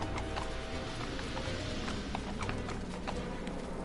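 Hooves of a horse in a Tintin video game clip-clop at a steady trotting rhythm, quiet and repetitive over a constant low game background, with no talking.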